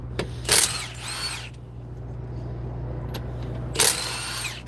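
A power tool, likely a drill or impact driver, whirs in two short bursts near the start and end while new rotors go on a car, over a steady low engine-like hum with quiet gaps between.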